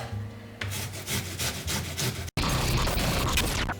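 Onion being grated by hand, a steady close rasping scrape in repeated strokes with a brief pause partway through.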